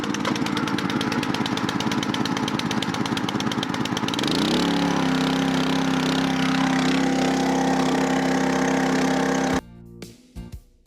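A Champion wood splitter's gas engine is pulled into life and then settles into a steady, loud idle that runs alone until it cuts off abruptly near the end.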